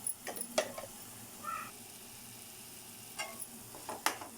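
Onion paste frying in a pan with turmeric, a soft steady sizzle punctuated by clinks and scrapes of a utensil stirring.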